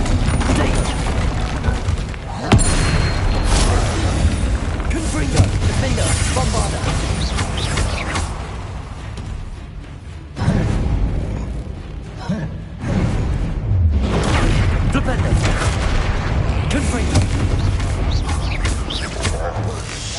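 Confringo spell blasts go off in Hogwarts Legacy as repeated booming explosions and crashes over a dense in-game background, with several louder bursts spaced through the stretch and voices at times.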